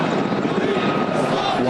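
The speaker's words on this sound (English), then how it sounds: "undeterred by military helicopters up above" Military helicopters fly overhead above a crowded square in Tahrir Square, Cairo, their rotor and engine drone a steady, loud wash beneath crowd noise and a speaking voice.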